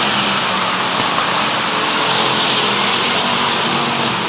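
Stock cars roaring around an oval short track in a strictly stock feature at Waterford Speedbowl, a dense, steady engine drone from the pack running side by side, loud and continuous with no gaps.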